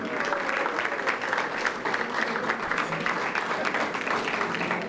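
An audience at a civic gathering applauds, a steady, dense wash of handclapping that fills the room at even loudness throughout, with a few voices mixed in.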